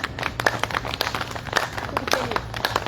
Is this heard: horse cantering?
no